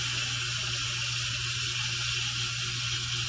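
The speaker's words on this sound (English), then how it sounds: "I'm letting the steam escape." Steady loud hiss of steam venting from an Instant Pot through a red silicone spout, continuous and close with no break, no talking.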